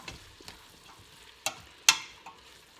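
Garlic cooking in a pot for soup is stirred, giving a faint, steady sizzle broken by a few sharp scrapes and clinks of a utensil against the pot, the loudest near the end.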